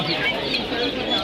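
Pigeons coo and flutter at the crowded Jinjira pigeon market, a dense wash of bird calls mixed with steady nearby crowd chatter and people talking.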